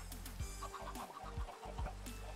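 Flock of adult chickens in Minecraft clucking in short bursts, several clucks overlapping at close range over a steady game background.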